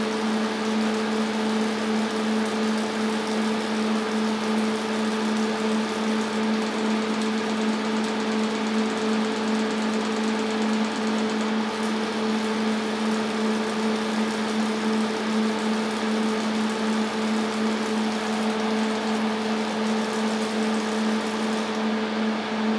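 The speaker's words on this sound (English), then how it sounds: "Of course it has to read the initialization program of the tape." A TU56 DECtape drive on a PDP-11/05 reads the RT-11 initialization program from tape, a steady mechanical hum with strong tonal whine that stays even and unbroken, nearby and alone.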